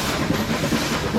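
Nilgiri mountain train running on the Mettupalayam to Ooty line, a close, continuous rumble with steady wheel clatter and no voices.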